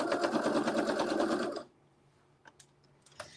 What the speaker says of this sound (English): That's a triple layer of stitching